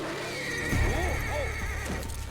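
A horse in a Walking Dead scene gives a loud, close whinny that rises and falls over about a second, with hoof clip-clop and outdoor ambience around it and no talking.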